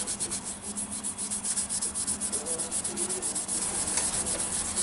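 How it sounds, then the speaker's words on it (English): Rhythmic rubbing strokes of abrasive cloth and abrasive paste sanding a curbed wheel, steady and repeated, close by with no talking. "this is just an abrasive cloth with an abrasive paste that we use for sanding"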